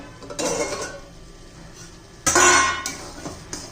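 A metal lid is lifted off a cooking pot of simmering egg curry, giving a short clatter and clink of metal on metal, followed after a pause by a louder, brighter clank as the lid is handled again.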